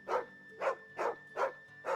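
A dog in Final Fantasy XVI barks five times in a steady, evenly spaced rhythm, each bark short and close, over a faint sustained musical tone.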